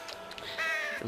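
Short raspy caw from a crow-like bird in Grand Theft Auto 5, one brief rough call heard clearly on its own.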